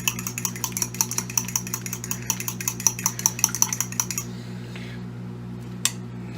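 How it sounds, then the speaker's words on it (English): A spoon stirs thick chicken pot pie filling in a pot, making rapid, regular metallic clinks and scrapes in a steady rhythm for about four seconds before stopping. A low hum runs underneath and one faint knock follows. "So that's stirred, and as you can tell, it's stirred up"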